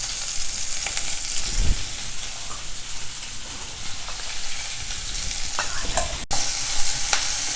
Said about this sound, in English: lightly stir them together